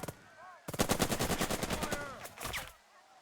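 Machine gun fire in the WWII video game Burden of Command comes as a dense, rapid burst lasting about two seconds, with a short second volley after it. Brief voice fragments can be heard at the edges.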